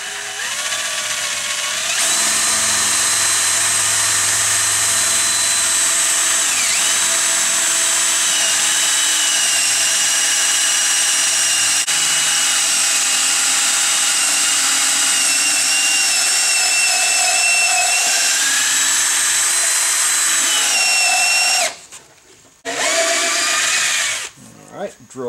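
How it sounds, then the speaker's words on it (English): Power drill boring into the wooden frame of a wood-burning forge, a loud continuous whirring drone that holds for about twenty seconds, then drops out into brief stops and restarts near the end. "Alright, drill this side. Same thing. Keep the drill level."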